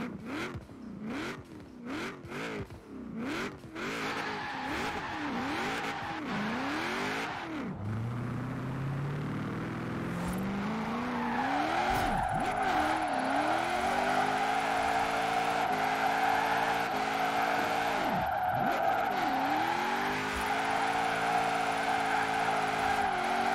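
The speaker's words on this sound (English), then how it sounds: "Now let's go hit a couple drift zones." A 2013 Mazda MX-5 drifting in Forza Horizon 4 revs up and down in quick bursts, then holds a loud, steady high-revving engine drone with brief dips as the tyres slide, all close and without talk.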